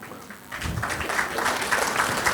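A burst of hands clapping starts after a short pause and continues steadily, a dense patter of claps close by.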